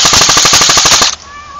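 An airsoft gun fires a rapid full-auto burst of about a dozen sharp, loud, evenly spaced shots during an outdoor skirmish, then stops abruptly and leaves quiet background behind.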